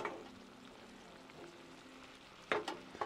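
Butter with a sprig of rosemary sizzles in a ceramic pan outdoors, a faint steady crackling hiss broken by a few sharper spits and clinks near the end, with no talking.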